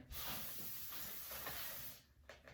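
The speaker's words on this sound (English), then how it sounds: "Spray the cake pan with the nonstick cooking spray" A steady broadband hiss of nonstick cooking spray onto a cake pan runs for about two seconds, then cuts off, followed by a few faint clicks.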